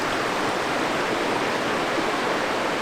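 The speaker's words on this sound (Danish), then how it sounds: "Vi er ved vandfaldet nu her." Sweden's highest waterfall thunders nearby in an even, unbroken roar of falling water, loud and alone with no talking.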